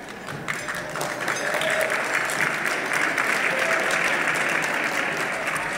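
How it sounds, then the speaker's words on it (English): An audience at a law school awards event breaks into applause, starting thinner and swelling into full, steady clapping that holds at a constant level to the end. "And you'll notice the students were the first ones to clap."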